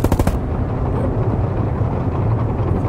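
Gunfire in Hell Let Loose, a quick burst of rapid automatic shots up front, then a dense, steady battlefield roar of distant firing and rumble.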